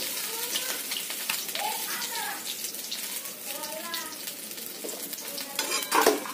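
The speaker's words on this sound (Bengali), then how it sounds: "এরপর একে একে বাকি মাছগুলো আমরা ভেজে নেব" Tangra fish fry in a pan with a continuous bubbling sizzle and occasional stirring scrapes, close and moderate, with a sharper crackle burst near the end.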